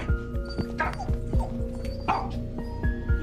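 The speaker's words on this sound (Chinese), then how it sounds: "突然屋内的狗子也发疯似的叫了起来" A dog indoors barks repeatedly in quick, agitated bursts close by, over a steady rhythmic background noise.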